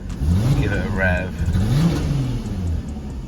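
A Volkswagen Golf R32 turbo with suspected boost leaks and misfires gets a quick rev, the engine note rising and falling once, close by, while people talk over it.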